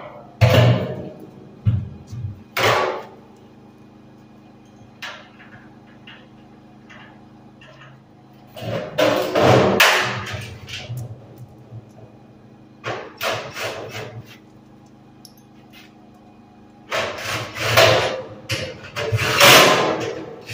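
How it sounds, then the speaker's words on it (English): Hammer blows punch a hole through metal while building a DIY charcoal retort, landing as sharp, ringing strikes in short separated clusters with quieter gaps between them. "So I'm going to punch that hole out."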